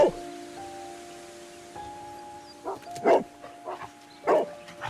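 A dog barks in bursts in the Sherlock Holmes game Die Affäre Abbey Grange, with one bark at the start and a quick run of barks toward the end over steady tonal game ambience.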